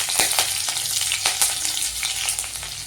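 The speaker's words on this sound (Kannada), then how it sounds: "ಎಣ್ಣೆ ಕಾದ್ಮೇಲೆ ಜೀರಿಗೆ ಹಾಕ್ಕೋಬೇಕು" Cumin seeds and green chillies sizzle in hot oil in a pan, giving a close, steady crackling hiss with small sharp pops throughout.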